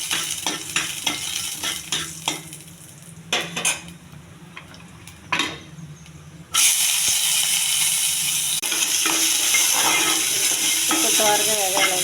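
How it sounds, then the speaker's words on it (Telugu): Urad dal, cumin and dried red chillies frying in oil for a spinach fry, with spoon clinks and stirring in a pan, then a loud, steady sizzle that fills the second half. "మినప్పప్పు, ఎండుమిర్చి ఎక్కువ తేగాలండి బాగా"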